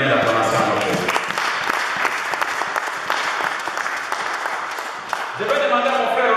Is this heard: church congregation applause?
yes